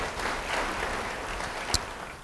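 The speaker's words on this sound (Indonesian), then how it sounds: "Yang percaya beri tepuk tangan bagi dia." A church congregation claps in a short burst of applause that stays fairly even for two seconds, with one sharp clack partway through before it starts to fade.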